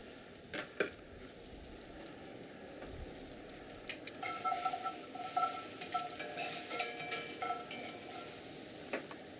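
Garlic hits a hot pan after chicken, sizzling and crackling steadily with brisk stirring scrapes and clicks, close and moderately loud, no voices.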